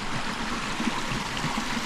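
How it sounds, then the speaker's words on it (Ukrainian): A small mountain stream in the Carpathians flows in a steady, broad rush of babbling water, constant and close with no talking. "Ось зараз вам покажу, що тут потічок."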